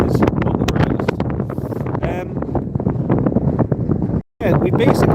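Strong wind buffeting a microphone outdoors at Inverness Airport, loud continuous low rumble and gusty thumps that cover a person talking over it, with a brief dropout near the end.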